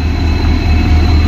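Howrah–Pondicherry weekly superfast train at a station platform at night, a loud, steady low rumble with a constant high electrical whine, close and continuous.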